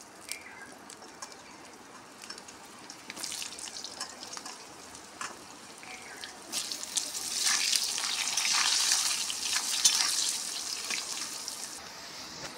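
Potatoes and dried chillies fry in oil in a pan, a steady hiss that grows louder and brighter midway, with occasional stirring clinks and birds calling faintly in the background.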